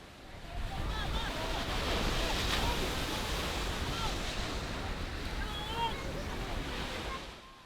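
Strong waves on the open sea off San Jose, Occidental Mindoro, roar as a dense, steady wash of surf and wind buffeting the microphone, loud and continuous throughout.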